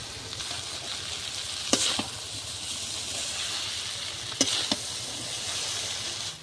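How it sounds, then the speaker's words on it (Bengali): Chow mein with egg, potato and onion is stir-fried in a pan, a steady close sizzle and hiss broken by two sharp clusters of utensil scrapes. "এখন আমি ডিম আলু পেঁয়াজ ভালো করে চাউমিনের সাথে মিশিয়ে নেব ভালো করে"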